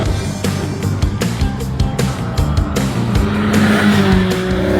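A Mazda MX-5 on a race track, its engine droning loud and continuous with a rising note near the end, mixed with tyre noise and other car sounds nearby.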